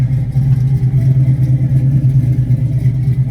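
A 1971 Mustang Mach One with a 394 stroker engine and five-speed runs with a loud, steady low rumble close by, its throaty roar holding evenly throughout without breaks.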